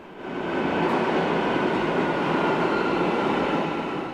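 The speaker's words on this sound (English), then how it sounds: "I get back on the subway to reach my next destination." A subway train in Almaty, Kazakhstan rolls along with a loud, continuous rushing roar and rattle that swells in and holds steady for the whole stretch.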